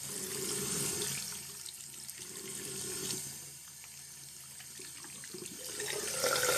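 Running water rinses the lengths of straight Brazilian hair extensions, a steady broadband rush with shifting splashes as the stream moves over the hair, fairly close and alone without talk.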